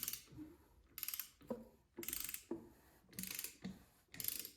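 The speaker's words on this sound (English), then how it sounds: "So just roll this over, make sure nothing's binding with the chain." On a rare Honda dirt bike that smokes heavily, the chain is rolled over by hand, giving repeated close, rhythmic mechanical ratcheting and clicking bursts about once a second.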